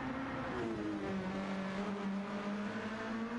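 Race cars circling Circuit Gilles Villeneuve in a racing video game, a steady, fairly quiet engine drone with gently rising and falling pitch and no voices over it.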